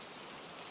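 Steady rain pours down at a rainy midnight, a dense, even hiss of drops on surfaces that fills the whole moment without a break.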